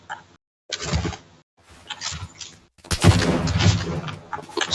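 Sniper gunfire in the battle royale game PUBG, sharp reports and bursts at close range, with the densest, loudest volley in the final seconds.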